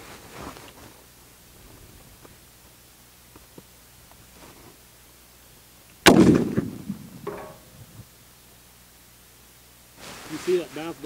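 A single loud gunshot from a Springfield Trapdoor Model 1884 rifle cracks sharply, then trails off into a rolling outdoor echo, with faint chatter from shooters around it before and after.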